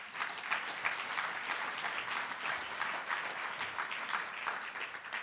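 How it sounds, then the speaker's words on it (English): An audience at a drug-free kids campaign awards evening applauds, a steady, fairly distant wash of many hands clapping that continues evenly throughout. "I think they deserve a round of applause."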